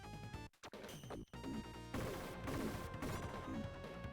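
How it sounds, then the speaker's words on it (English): Missiles fired at the player in the video game Shinobi 3, heard as a dense run of smashing, gunfire-like blasts over busy game music, with a brief dropout before the barrage thickens and carries on loud to the end. "Oh, you're shooting missiles at me."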